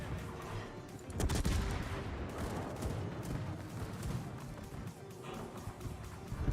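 Secondary guns on the cruiser Prince Eugen fire in World of Warships, a dense rumbling stream of overlapping cannon booms with a heavier burst early on, continuing steadily at moderate loudness.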